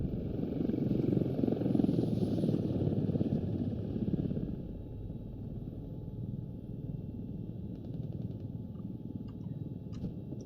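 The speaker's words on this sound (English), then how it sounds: "Enemy chopper is hovering on West Stepney." A helicopter's rotor chop and engine whine hum steadily in the distance, softening partway through, with faint clicks on top.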